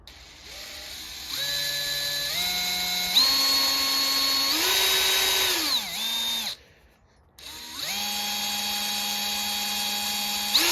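Power drill boring into a stripped, shredded screw head, whining loudly at a steady pitch that rises in steps and sags, cuts out briefly, then resumes alone and close.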